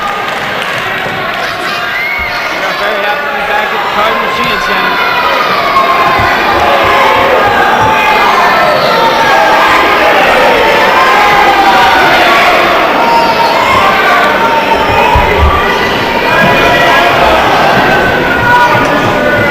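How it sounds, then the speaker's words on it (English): A hot indoor wrestling crowd in Bridgeport cheers and shouts through a CCW bout between Tookie Tucker and Shokun, a loud, sustained roar that swells and stays dense, with commentators talking over it. "Hot crowd tonight here in Bridgeport."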